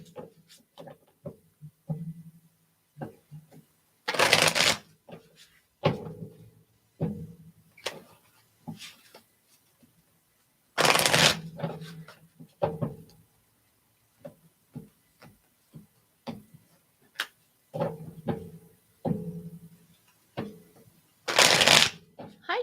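Playing cards being shuffled in several loud, broadband riffle bursts, separated by tapping, handling noises and speech.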